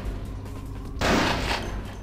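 Gunfire in the video game Vampire the Masquerade Bloodlines, a sudden loud burst of shots erupting midway after a quieter stretch of background game sound.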